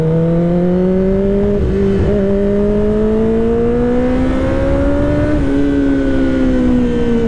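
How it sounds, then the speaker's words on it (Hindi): A Kawasaki ZX-10R sport motorcycle engine runs loud and close, a smooth continuous drone whose pitch climbs slowly with two brief dips, heard alone without talk. "ओए क्या साउंड है यार बाइक की, मुझे बहुत टाइम हो गया सुने हुए"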